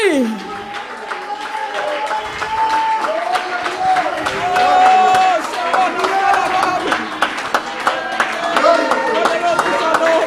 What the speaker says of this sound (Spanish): Un aplauso para el Señor esta noche.